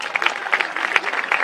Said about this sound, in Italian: Vieni qua e dai un applauso!